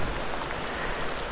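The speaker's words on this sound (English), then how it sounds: "It's raining pretty heavily." Steady, dense hiss of heavy rain falling, broadband and constant throughout with no pauses or voices.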